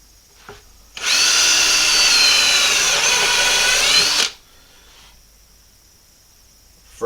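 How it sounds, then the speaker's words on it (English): A power drill bores holes through wood while a wooden cope and drag flask is built for metal casting, giving one loud, steady whine of about three seconds with a faint tick before it and quiet afterward. "Now we drill a couple of holes."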